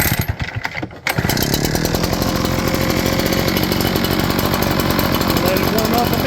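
Small gasoline engine sputtering briefly, then catching and running at a steady, loud, rapid idle close by, with a voice heard over it.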